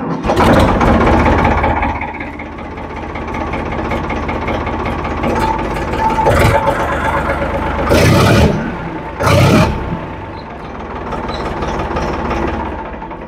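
A large diesel engine of a restored Ford 3610 tractor cranks, starts and settles into a loud, rough idle nearby. It revs up briefly a couple of times.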